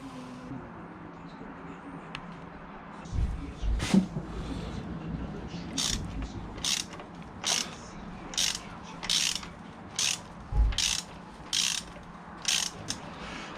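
Rover K Series engine from an MG TF 135 being turned over by hand with a ratchet, a regular series of close clicking bursts, with light talk early on.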